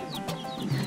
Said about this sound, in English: Oh, baby chickens with the lovely chicken mommy.